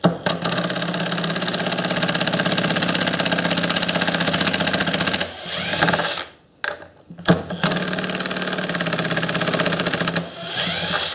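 A power driver set to its lowest setting rattles and ratchets continuously while backing screws out of a Stihl 251c chainsaw during fuel tank work, loud and close, with a few short stops before it whirs on again.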